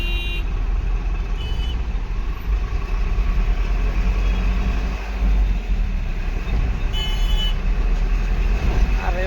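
Cars and other traffic on a busy Nagpur city road, heard from a riding tempo: continuous engine rumble and road noise with short horn toots and beeps throughout.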